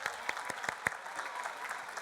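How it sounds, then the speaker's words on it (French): A congregation at a Christmas church service applauds the musicians and singers, with a few distinct nearby claps standing out over a softer, steady patter of many hands. "On peut les applaudir déjà, hein ?"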